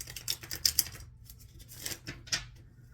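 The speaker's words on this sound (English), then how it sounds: "Spirit, I am shuffling." A tarot card deck being shuffled by hand, giving soft papery riffles and flicks in short bursts, close and fairly quiet, with no talking.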